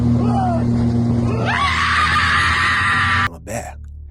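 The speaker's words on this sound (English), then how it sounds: "they raised their voices, shouting and screaming to discourage the protective mama bear" Several people shout and scream loudly outdoors to drive off a protective mother bear, their raised voices rising in pitch and holding over a low engine hum from a nearby boat before cutting off abruptly near the end.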